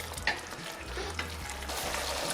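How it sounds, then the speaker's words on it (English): Ground pepper is being stirred into chicken cacciatore in a pan, with gentle spoon scrapes and stirring clatter over a low, continuous sizzle, close by. "add a little bit of pepper, and then I'm going to stir this in and taste it"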